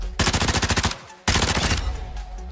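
Two rapid bursts of automatic gunfire in Warzone 2.0, each a tight, evenly spaced string of loud close shots separated by a brief pause, with no talk over them.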